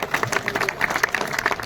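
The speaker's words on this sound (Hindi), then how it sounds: "हमारी कुक टीम, जोरदार तालियां।" Audience applause for the cook team at a cultural program in Ladakh: brisk, crowded clapping at moderate loudness, steady through the short stretch with no talk over it.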